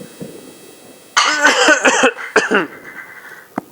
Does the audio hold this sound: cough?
yes